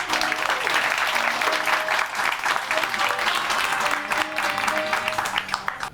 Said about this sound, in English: Let's applaud to Anas, please.